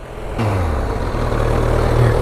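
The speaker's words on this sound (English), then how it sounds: "Pretty loud. Standard exhaust. And it's got a nice intake noise as well." A Honda CBR1000RR Fireblade SP motorcycle with standard exhaust runs steadily close by, a deep, loud engine drone that holds and rises slightly in pitch.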